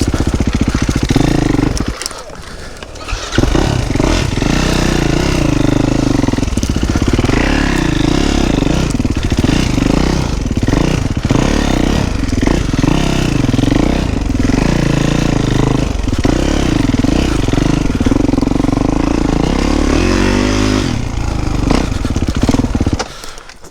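A motocross bike revs hard on a trail ride, its loud, close engine climbing and dropping continuously for over twenty seconds with rattling and clattering over rough ground.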